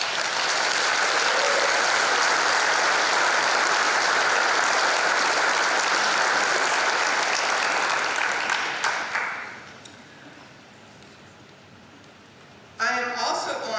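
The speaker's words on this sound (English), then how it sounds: "Please join me in giving Airman Joshua Bowen a resounding applause" Sustained applause from a graduation audience at a high school ceremony, dense and steady for about nine seconds before fading to quiet room murmur, then a brief burst of clapping resumes near the end.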